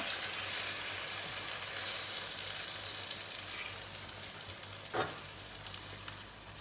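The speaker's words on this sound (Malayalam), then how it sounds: "ഇനി നമുക്ക് ഈ എടുത്ത് വെച്ച നൂഡിൽസ് ഈ മിക്സ് ഇട്ട് കൊടുക്കാം എന്നിട്ട് ഇതെല്ലാം ഒന്ന് ലെവലാക്കണം" Noodles and spice mix fry in a pan with a continuous loud sizzle, broken now and then by light stirring and one brief knock of a utensil.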